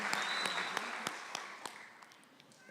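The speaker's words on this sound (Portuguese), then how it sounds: "Uma salva de palmas para os nossos pastores, aleluia." Faint scattered clapping from a church congregation honoring pastors, sparse distinct claps over a low background, growing quieter toward the end.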